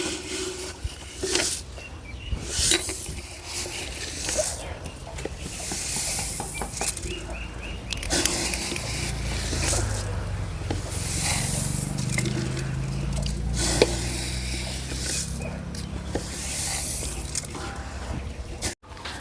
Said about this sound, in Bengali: গরম ধান স্টিলের বালতি দিয়ে তুলতে খুব মজা